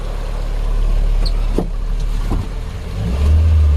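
A Gypsy jeep rolls over loose, crumbly soil in a tiger reserve, its steady engine drone close and continuous with a few soft knocks and a rising rumble near the end; no one speaks.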